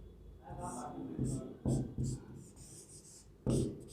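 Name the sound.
writing on a board during a lesson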